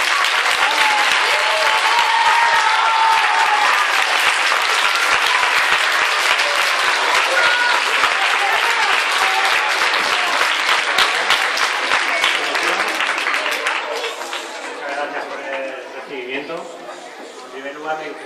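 A school audience at Colegio San Pablo gives a guest a long, loud round of applause that runs steadily before thinning out toward the end, with voices rising over the fading clapping.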